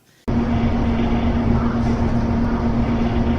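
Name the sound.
compressors running in the background of a ghost-hunting recording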